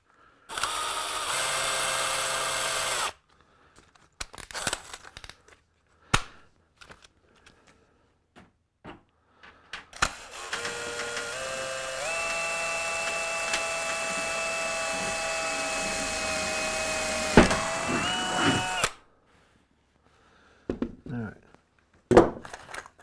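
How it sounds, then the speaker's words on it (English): A power drill whines in a short burst, then runs steadily for several seconds with its pitch shifting under load as it drills an 1/8 inch hole through an aluminum rivet, followed by clunks and handling noises. "I just drilled a hole I believe is an 1/8 inch hole."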